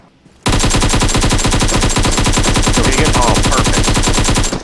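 Sustained automatic gunfire in the Warzone video game, a rapid, loud, continuous burst of evenly spaced shots lasting several seconds, with a brief voice heard over it.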